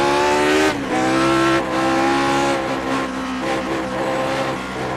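Lotus 49 race car in iRacing at high throttle and high RPM, a loud close, continuous engine howl with pitch shifting as it revs and eases, without pauses.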